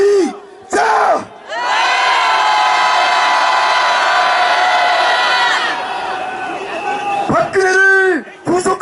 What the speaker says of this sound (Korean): 시민 여러분, 우리 세월호 유족들과 함께 박근혜 즉각적인 퇴진을 요구하는 함성을 한번 질러 보도록 하겠습니다